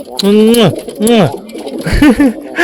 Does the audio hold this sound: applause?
no